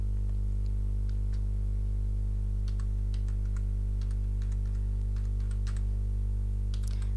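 Someone types an email subject on a computer keyboard, producing scattered light key clicks in irregular bursts over a steady low electrical hum.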